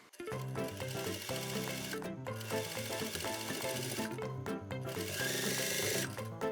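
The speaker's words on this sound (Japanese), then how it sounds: "あとはベルトをステッチで留めていきます。" A sewing machine topstitches a waistband belt onto a garment body, steady and close. The fast mechanical run carries on with only brief pauses.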